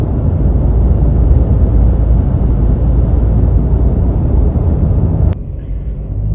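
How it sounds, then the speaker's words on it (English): Nissan Navara D23 SL Silverline rolling onto a corrugated dirt road, heard from inside the cab as a steady, loud low rumble of engine and tyres with a sharp knock near the end and a slightly quieter drone after it. "Just coming onto a bit of dirt, corrugated road here at the moment."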